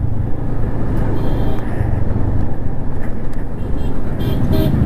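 Steady road traffic on a busy route near Gurgaon, heard from a moving vehicle, with a constant low engine and road rumble and brief car horn toots breaking through, loud and close.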